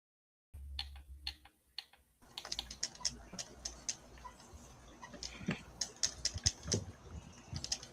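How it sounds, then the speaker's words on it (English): A typewriter clatters with rapid, irregular keystrokes, close and fairly quiet, after a brief stretch of softer tapping at the start. "Somebody using a typewriter?"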